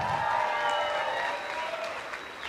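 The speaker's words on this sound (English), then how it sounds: "let's hear a big round of applause for our host country" Crowd applause and cheering at the surfing games finals day in El Salvador, a steady loud wash of clapping that holds throughout and eases slightly toward the end.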